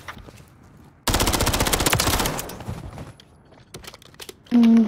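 Rapid automatic gunfire in a video game duel, a dense loud burst lasting about two seconds and then trailing into scattered single shots, followed by a sharp electronic tone at the end.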